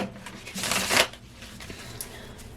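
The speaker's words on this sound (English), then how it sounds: "And as I'm shuffling" Tarot cards shuffled by hand close up, a quick papery riffle that swells to a brief louder burst, then softer rustling and small taps of the deck, with no talking.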